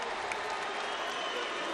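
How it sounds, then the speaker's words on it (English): An arena crowd at a heavyweight boxing title fight applauds the new champion, a dense, steady wash of clapping and cheering that holds at an even, loud level throughout. "can we give a round of applause for Andy Ruiz,"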